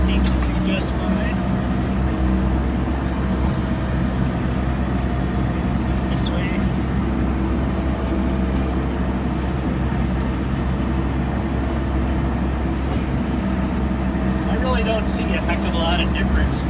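A Sherp all-terrain vehicle drives in chilly weather, a steady, loud low engine drone heard from inside the cabin throughout.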